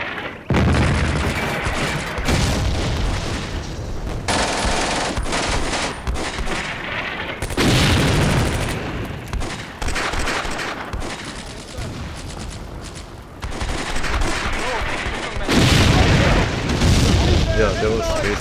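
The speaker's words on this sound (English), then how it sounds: "Yeah, that was basically a big explosion" Artillery shells bursting in the wartime strategy game Combat Mission: Beyond Overlord, loud booms mixed with rattling gunfire in repeated bursts, with speech audible between the blasts.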